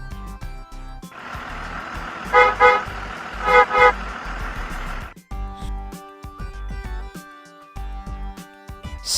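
A bus engine rumbles steadily, with two bursts of loud horn honks in the middle, then the idling engine continues alone with some clatter.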